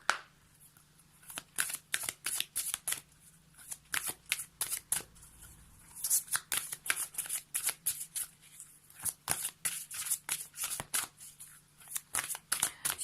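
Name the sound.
shuffling oracle cards (Whispers of Ganesh deck)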